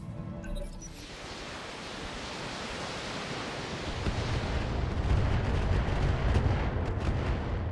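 Turret fire in the RogueTech mech game: a dense, roaring barrage of blasts builds from about one second and swells louder after four seconds, continuous and heavy.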